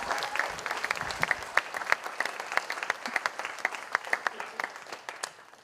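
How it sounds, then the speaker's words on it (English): An audience at a symposium gives a final round of applause for a presenter, moderate clapping with distinct individual hand claps that gradually tapers off. "Can we get one last round of applause for Ethan?"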